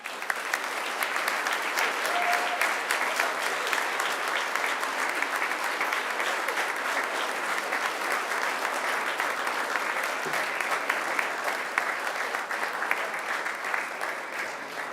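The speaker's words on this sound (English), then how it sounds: "now it's time to give them a mighty round of applause" Graduates at a Macquarie University graduation ceremony give their families and friends a long, steady round of applause, a dense wash of many hands clapping that stays even and full for the whole stretch.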